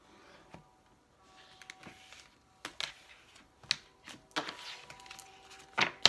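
Quiet, scattered papery clicks and soft flicks of tarot cards being shuffled close by, with brief pauses between bursts.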